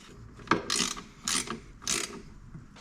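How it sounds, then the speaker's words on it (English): Hand ratchet driving a 12mm bolt back in on a second-generation Toyota 4Runner engine during valve cover gasket work: a sharp click followed by three rhythmic rasping ratchet strokes, close and clear, with no talk. "We'll take this 12mm bolt and put it back in."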